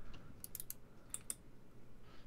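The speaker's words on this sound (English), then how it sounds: "Can you hear me typing? Barely. It's very soft." Soft keystrokes on a computer keyboard come as a few faint clicks in two short bursts, close by and quiet over low background hiss.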